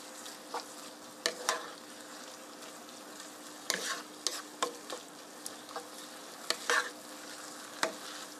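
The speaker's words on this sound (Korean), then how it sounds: "자, 잠시만 이렇게 볶아주세요." Spaghetti with shiitake mushrooms and a spoonful of pasta water stir-fried in a pan: a steady close sizzle with repeated sharp scrapes and clacks of a utensil stirring at irregular intervals.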